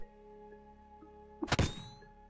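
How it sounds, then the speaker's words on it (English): A flashbang detonates in the Caves of Qud video game as a single short, muffled thump with a brief crackly burst, set against a quiet backdrop of steady electronic tones and soft blips. "Now we're gonna hold a flashbang right against our eye. And detonate it."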